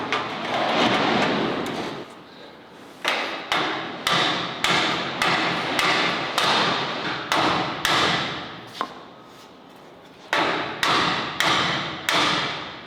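Clamping a transmission crossmember onto a 1950 Chevy pickup frame in a shop: a series of sharp, loud metallic clicks and thuds in an uneven rhythm, with a short quiet gap partway through.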